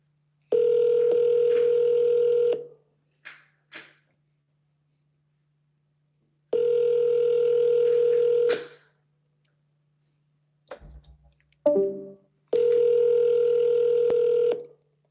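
A phone call being placed: three long, loud ringback tones with pauses between them, broken by a few short clicks and button beeps near the middle, clear and close.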